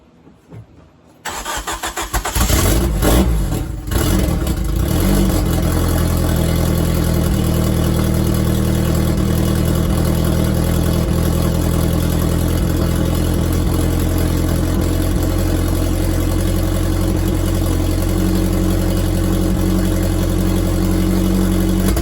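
A turbocharged Hyundai Tiburon engine cranks, catches and roars to life, smoking from the exhaust, then settles into a loud, steady idle that runs on for a long stretch.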